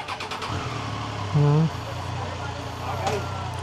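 A Triumph 675 motorcycle engine cranks and catches, a short loud starter burst followed by a steady idle rumble, with people talking nearby.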